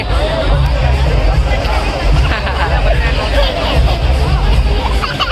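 Dense festival crowd hubbub at the Mysuru Dasara Yuva Sambhrama cultural celebration: a steady, loud wash of overlapping voices and babble with occasional brief shouts, continuous throughout without pauses.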